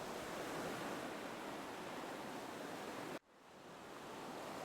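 Steady ocean surf washes continuously against the shore at sunset, a broad hissing roar that suddenly drops away near the end and then swells back up, with no voices.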